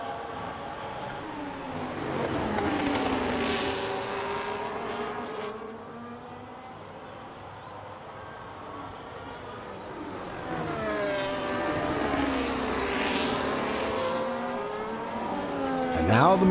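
Formula 1 race cars, including a McLaren and an Alpine, at Imola in the F1 25 video game, their engines rising and falling in pitch as they pass, under steady commentary.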